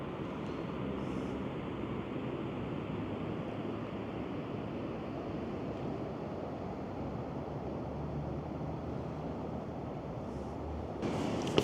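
Steady, continuous rush of river water flowing at night through a small downtown area in winter, a constant broadband wash with no talking.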